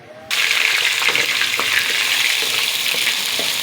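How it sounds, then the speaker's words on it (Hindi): Chicken pieces with liver drop into hot oil and set off a sudden loud sizzle that stays strong and crackling to the end, close to the microphone. "अब मैं उसी ऑयल में चिकन को फ्राई कर लूँगी।"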